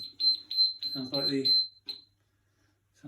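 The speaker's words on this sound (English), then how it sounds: "like the smoke alarm." A high electronic alarm beeps in short repeated chirps while a person talks over it, then the room falls quiet.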